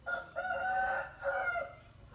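A rooster crows once in a drawn-out, two-part call, fairly close and clear against quiet rural background noise.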